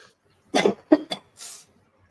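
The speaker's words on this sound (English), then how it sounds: "I'm going to cough again." Several short, close coughs in quick succession, followed by a softer breathy exhale, with quiet around them.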